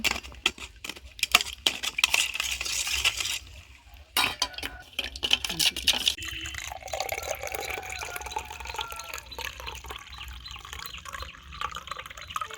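Spoon stirring and breaking up ingredients in a glass of homemade summer sherbet, with clinks and liquid swishing at close range, busier in the first few seconds and then a softer steady churn.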